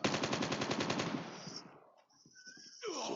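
Rapid automatic gunfire in the video game Call of Duty, a loud sustained burst of shots that cuts off midway, then a few scattered clicks before more firing noise returns near the end.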